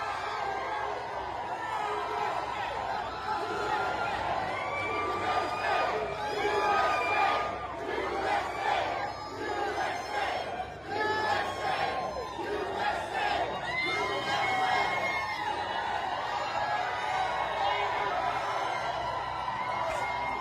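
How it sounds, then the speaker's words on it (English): Crowd of elderly people standing and cheering as President Trump walks into an auditorium, a sustained loud roar of shouts, whoops and cheers that swells and dips throughout, with voices mixed into the din. "these are old people who are all standing up and cheering President Trump as he walks in this auditorium there"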